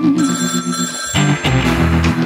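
A telephone bell rings loudly in a surreal pop song, two bursts of ringing over the music's steady backing.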